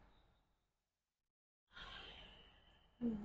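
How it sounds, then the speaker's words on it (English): Deep breathing during a yoga posture: a soft exhale trails off into silence, then a long, close, airy inhale swells and is followed by the start of another breath. "We're going to take 2 more big cycles of breath here."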